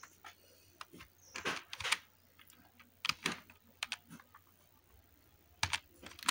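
Keys clatter on a computer keyboard as a name is typed, quick bursts of clicks separated by short pauses, close and fairly quiet with no voices.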